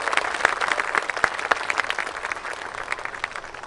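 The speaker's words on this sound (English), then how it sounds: "Let's give him a round of applause." An audience at a boxing event applauds, a dense patter of claps with a few sharp louder claps standing out, steady and moderately close throughout.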